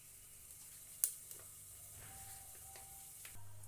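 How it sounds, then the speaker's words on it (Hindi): Cumin seeds sizzle in hot oil in a pressure cooker, giving a quiet, steady frying hiss broken by a few sharp crackles. "अभी कुकर में मैंने तेल डाला था गरम होने के लिए, तो इसमें मैं डालूंगी जीरा"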